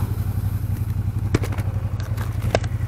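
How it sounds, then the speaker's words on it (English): A 2016 Ducati Monster 1200 R engine braking hard on a downshift, a steady low twin-cylinder burble close to the microphone, with two brief sharp crackles from the exhaust cutting through. "Soaks up harder downshifts with those big pistons that want to go. Engine brake!"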